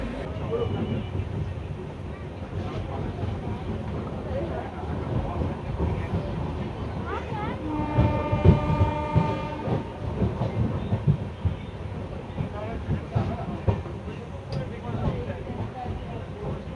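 The Prasanti Express, a passenger train from KSR Bangalore, rolls along with a steady rumble and rhythmic clickety-clack, heard from inside over a constant low drone, while people talk now and then.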